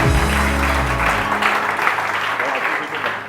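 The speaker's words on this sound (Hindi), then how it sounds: "आइए देखिए शाह नज़ीर साहब के लिए बहुत सारी तालियां" Applause from a studio audience on a live TV morning show, a steady dense wash of clapping that starts with low musical tones underneath and carries on alone at even loudness.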